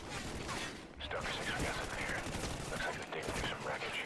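Steady gunfire in the Call of Duty Ghosts campaign mission Odin Down, dense overlapping shots that carry on without a break across the whole stretch.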